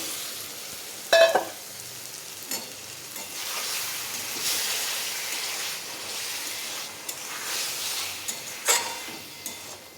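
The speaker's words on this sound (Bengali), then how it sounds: "মশলার সঙ্গে ভালোভাবে আলু মিশিয়ে নিয়ে নাড়তে থাকবো" Fried potatoes being stirred with spices in a pan for a rohu fish curry, giving a steady soft sizzle with scraping stirs and a few sharper clinks of the spoon, close and moderately loud, with no talking.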